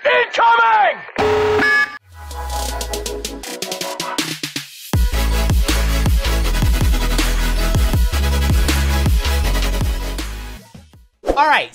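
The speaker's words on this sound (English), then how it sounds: "Tactical Nuke incoming!" Tactical nuke incoming alert from the video game Call of Duty Modern Warfare: a loud electronic alarm with a deep rumbling boom, swelling into dense blaring game audio with sharp repeated tones, standing alone before ending abruptly.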